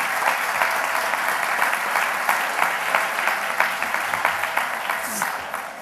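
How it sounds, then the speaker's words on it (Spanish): An audience claps steadily and loudly at an olive oil festival in Periana, Spain, with continuous applause from a large crowd. "Nuestro aplauso para ella y enhorabuena."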